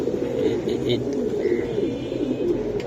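A male Giribaz pigeon, a silver racing breed offered at a wholesale market, coos in a steady low murmur that runs under background talk and market noise.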